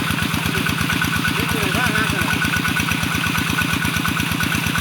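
A groundwater pump engine at a village installation in Nong Bua Lamphu, Thailand, mounted on a base that is not yet sturdy, runs loud and close with a fast, even thumping beat, and a voice is heard briefly over it.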